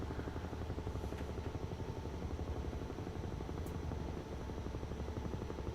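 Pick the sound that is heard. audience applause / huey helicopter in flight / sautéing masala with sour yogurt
huey helicopter in flight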